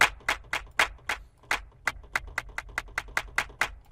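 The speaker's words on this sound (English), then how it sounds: "let's just pick this clap" Clap sample from the DruMM Series 1 ambient wet drum kit, struck about fifteen times in a quick, slightly uneven run, each hit a crisp, bright snap with a short roomy tail, with no voices.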